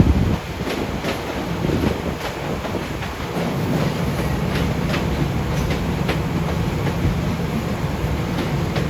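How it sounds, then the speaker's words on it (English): An LIRR M9 electric train, number 757 running Hempstead to Atlantic Terminal, rolls steadily through Jamaica station with a continuous rumble and faint rail clatter, buffeted by heavy wind noise on the microphone throughout. "Those M9s make up train 757, Hempstead to Atlantic Terminal."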